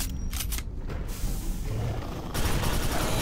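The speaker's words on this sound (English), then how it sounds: "Reload." Quick mechanical clacks and clicks from a weapon being reloaded in the shooter game Quake 4, packed into the first second over a dense, steady bed of game ambience and distant rumble.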